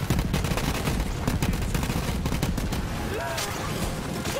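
The Flakker, a legendary shotgun in the video game Borderlands 3, fires in a rapid, dense string of loud bursts and explosive pops. The volley is sustained and close, with a short whistling tone near the end.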